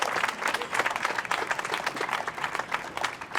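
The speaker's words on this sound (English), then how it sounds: "Give them a round of applause." A crowd applauds the public works team at a mayor's outdoor press conference marking the completion of Main Street, a steady patter of many hands, moderately distant and fairly quiet.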